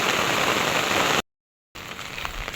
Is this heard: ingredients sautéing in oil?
no